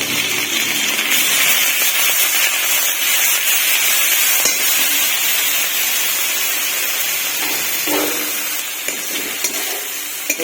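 Ginger, onion, garlic and chilli paste sizzles loudly in refined oil in a home kitchen pan, a steady bright hiss that fades slightly toward the end with a few faint clinks.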